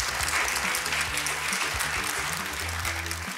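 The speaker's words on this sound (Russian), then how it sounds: "Возвращаемся ко мне под аплодисменты нашей студии" A studio audience at a Russian game show applauds steadily throughout, a dense, even patter of many hands over a low musical bed.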